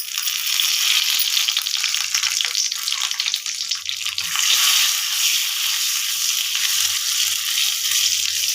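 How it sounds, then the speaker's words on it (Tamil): Mustard seeds and one dried red chilli frying in a small amount of ghee in a pan for murungai keerai kootu, giving a steady close hiss and sizzle with faint crackles, with no voices. "கடுகு போட்டுக்கோங்க. ஒரே ஒரு வரமிளகாய்,"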